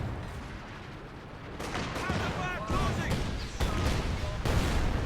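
Artillery shells slam into enemy mortar pits in the Company of Heroes 2 video game, with several heavy booming blasts arriving one after another under a steady din of battle and a voice talking.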